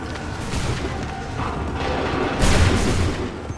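Cannon volley fired on command in Assassin's Creed 3, loud booming reports over a dense battle clamor, with a sharper burst of blasts near the end and no clear speech.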